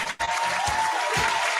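Recorded applause and crowd cheering played as a celebration for the Houston Texans reaching the playoffs, a broad steady roar after a brief dip at the start, with a faint tone running underneath.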